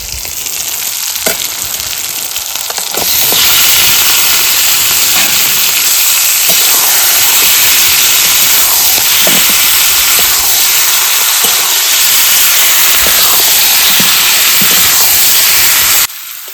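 Chicken feet, gizzard and liver hitting hot oil in a pan with tomato, breaking into a loud, steady sizzle and hiss that holds for over ten seconds with faint stirring scrapes, then cuts off.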